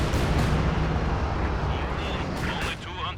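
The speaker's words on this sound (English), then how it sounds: "Dirty Finisher drops the light artillery barrage now." Light artillery barrage in Company of Heroes 2, a dense rumbling sequence of overlapping shell blasts and booms, loud and continuous, with commentators talking over it.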